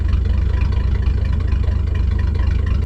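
A Chevy S10 pickup engine idles steadily up close after an ignition replacement, a loud, continuous low rumble with a slightly choppy, cammed-sounding lope and no voices over it.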